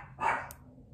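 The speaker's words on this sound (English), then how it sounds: "Can you hear my dogs? She's up the window again." A pet dog perched at a house window barks once, a short sharp burst that stands out clearly against a quiet indoor background.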